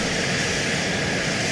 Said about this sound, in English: sent his jet into a straight power dive, with motors wide open at supersonic speed